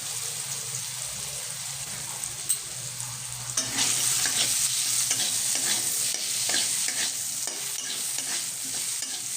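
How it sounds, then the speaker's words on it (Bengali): Potato pieces fry in hot mustard oil with salt and turmeric, a soft hiss that swells into a loud, steady sizzle with scraping stirs, close up with no talking. "তেলটা ভালো করে গরম করে নিয়ে তাতে আমি কেটে রাখা আলু অ্যাড করে দিচ্ছি"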